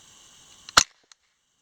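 A single sharp, close crack from a Savage 64 .22 rifle with feeding and misfire trouble, followed by a faint mechanical click, set against near silence.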